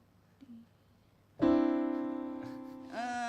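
Dissonant clashing seconds in 1-Up video game music ring out after a quiet start as a sustained, buzzy chiptune-like tone, holding and slowly fading before a second bright attack near the end; no talking.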